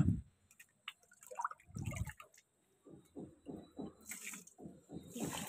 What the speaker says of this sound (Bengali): এই জল পড়ছে গাছে জল দিব